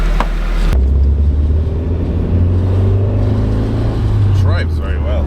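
Small-wheeled Japanese S-body car driving along, its engine a steady close rumble that holds loud and even throughout, with a brief rise in pitch near the end and no talk over it.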